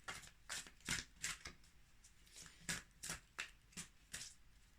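Tarot cards being shuffled by hand, about a dozen soft riffling bursts in a fairly even rhythm, quiet and close with no talking.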